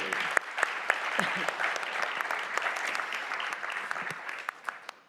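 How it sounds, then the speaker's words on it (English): Audience applause for speaker Renata at an annual education debate, a steady wash of clapping with a few sharper individual claps standing out, tapering slightly near the end, with faint crowd voices underneath. "A round of applause for Renata, please."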